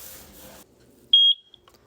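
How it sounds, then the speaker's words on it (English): After its sync button is pressed, a Eufy Security Garage Control Camera gives a single short, high-pitched electronic beep that is clear and close. Soft handling noise comes before it, and a brief tick follows. "Press the sync button until you hear the beep."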